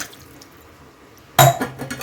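A quiet stretch, then a sudden splash of water poured into a pan of tamarind fish curry, followed by sizzling and bubbling.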